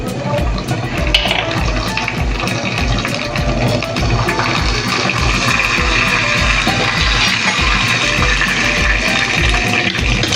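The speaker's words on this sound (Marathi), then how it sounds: "मोहरी छान तडतडली" Mustard seeds crackle in hot oil in a pot while a sour-sweet tempering water for moong dal dhokla is prepared, a dense, loud sizzle and fine popping that runs on steadily with no voices.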